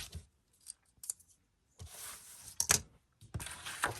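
Scissors snip through pattern paper in a few short, close cuts with pauses between them, crisp and quiet, during a craft project making a notepad folio.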